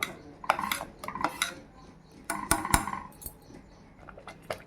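Stirring a pot of white sorghum porridge as it thickens: irregular scraping and clinks of a utensil against the pot, in short bursts with brief quiet gaps, close and moderately loud.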